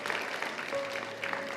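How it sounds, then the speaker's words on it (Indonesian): A church congregation applauding during a service at Gibeon Church in Surabaya, a brief, steady patter of many hands clapping at moderate distance. "Berikan tepuk tangan buat Tuhan."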